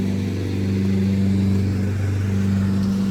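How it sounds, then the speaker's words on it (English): A motorized bicycle engine with a new spring chain tensioner runs steadily outdoors, a continuous loud mid-pitched buzzing drone with no speech over it. "I'm going for a motorized bike ride, see how the new spring tensioner does on my trusty bike."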